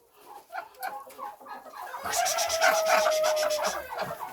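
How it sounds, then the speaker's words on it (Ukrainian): Chickens cluck and murmur close by in short, irregular bursts, growing denser and louder midway with a sustained squawking call. "Кури?"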